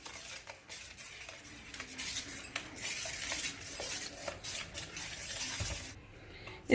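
Flour and salt are mixed in a bowl for pizza dough, with a soft, continuous stirring scrape and occasional light utensil clinks against the bowl.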